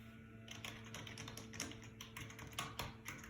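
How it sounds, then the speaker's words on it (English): Fingers typing on a computer keyboard, a quick uneven run of light clicking keystrokes over a quiet background, close and fairly soft. "Did you guess it was a keyboard?"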